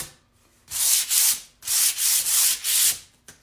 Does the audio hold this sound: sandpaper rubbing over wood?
yes